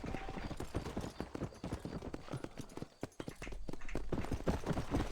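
Horse hooves clip-clop in the video game Red Dead Redemption, a rapid, steady rhythm of close hoofbeats continuing throughout the clip.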